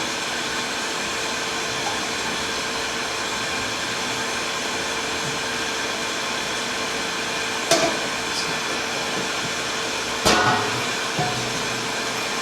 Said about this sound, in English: we're gonna come backwards through the pump underneath the grains here